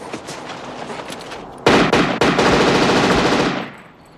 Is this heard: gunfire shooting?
yes